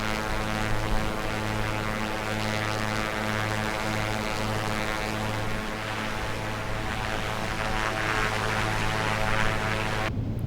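Steady drone of an A2A Comanche piston propeller engine on landing approach in a flight simulator, a continuous engine hum with harmonic tones that stays constant and fairly loud before cutting off abruptly at the end.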